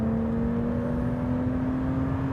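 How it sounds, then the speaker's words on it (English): A BMW E30 325i Sport straight-six engine pulls in third gear, its steady, close drone slowly climbing in pitch as the revs rise. "listen to this engine."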